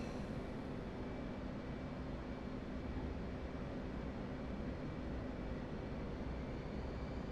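An F/A-18 Hornet on landing approach in DCS produces a steady, even jet engine roar with a faint tonal whine, unchanging throughout and with no voices.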